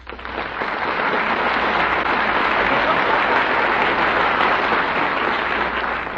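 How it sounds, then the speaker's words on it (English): Studio audience applause on an old-time comedy radio show, a dense, even burst of clapping that swells quickly and holds steady, loud and close. "That applause was for you."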